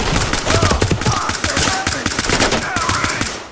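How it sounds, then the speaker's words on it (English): Uzi submachine gun fire in a video game, loud, rapid bursts of automatic shots that continue almost without a break. "I had an Uzi"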